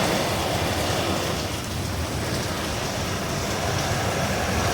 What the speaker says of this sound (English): You can see the wind, rain whipping behind him.